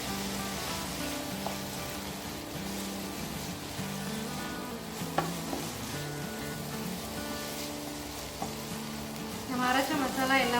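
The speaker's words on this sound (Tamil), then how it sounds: "நம்ம அரைச்ச மசாலா எல்லா பக்கமும் படுற மாதிரி நல்லா பரட்டி வச்சுக்கோங்க." Ground masala being stirred through a snake gourd stir fry in a hot pan, with steady close sizzling and rhythmic scraping of the spatula throughout, a brief louder clatter near the end.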